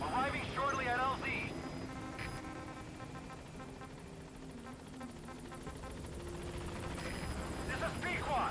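A helicopter arrives at a landing zone in the video game Metal Gear Solid V, a steady rotor thrum and hum under a radio voice, moderately loud and continuous.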